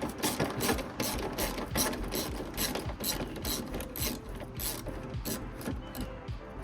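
A ratchet clicks steadily as it backs out two screws holding plastic trim pieces during a 4th-generation Toyota 4Runner bumper install. The rapid, close, continuous clicking and mechanical rattling run throughout, with no talking.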